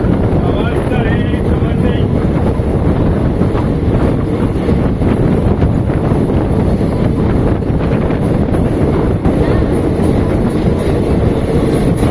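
A Circar Express passenger train on its run from Kakinada Port to Puducherry gives a loud, continuous rumble mixed with heavy wind buffeting, without a break for the whole stretch.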